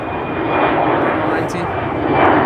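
An Embraer 190 jet at Amsterdam Schiphol Airport gives a steady, loud broadband engine roar that holds for the whole short stretch, with a thin high whine riding above it.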